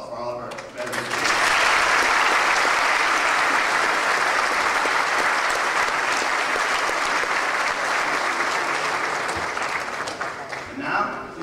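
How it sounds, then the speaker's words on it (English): A crowd at a Veterans Day ceremony in Hart County breaks into sustained applause for veterans, rising quickly to a full, even roar of clapping that holds for several seconds before tapering off. "Will you please all join me in a round of applause for all of our veterans?"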